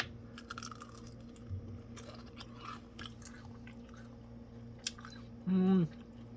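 Someone chews a Thai basil shrimp spring roll close up, with soft crunchy bites and wet mouth sounds scattered through the quiet, plus a brief louder tonal noise near the end.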